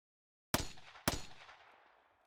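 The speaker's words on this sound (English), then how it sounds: "And then more gunshots." Two sharp gunshots in the video game Steins;Gate 0, fired about half a second apart after silence, each a loud close crack trailing off into a decaying ring.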